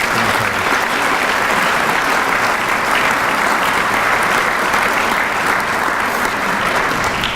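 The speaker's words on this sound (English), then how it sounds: "Could we have a round of applause for all of our dignitaries?" An audience at a Rhode Island Criminal Justice Hall of Fame induction ceremony applauds its dignitaries with loud, dense, sustained clapping that fills the room without a break.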